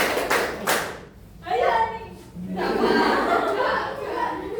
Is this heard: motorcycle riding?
no